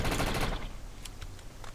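Rapid automatic gunfire from the video game Defiance: a dense, loud burst for about half a second, followed by a few scattered single shots.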